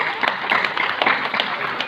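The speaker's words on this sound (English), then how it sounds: "Let's give him a nice big round of applause" An audience at the Dreamworld Tiger Island show on the Gold Coast, Australia, claps for a tiger: a short burst of crowd applause, fairly close and lively, with voices mixed in.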